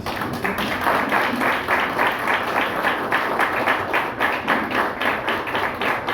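An audience at the 30th anniversary celebration of the APN employees' union in Haiti applauds members of Haiti's armed forces, with steady, dense clapping sustained throughout at moderate loudness.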